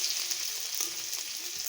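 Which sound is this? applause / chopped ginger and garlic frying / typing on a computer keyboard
chopped ginger and garlic frying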